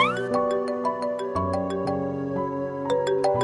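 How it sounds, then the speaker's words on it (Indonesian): A phone ringtone plays for an incoming call, a clear electronic melody of stepped synth notes repeating steadily and close, with no voices over it. "Telepon gua."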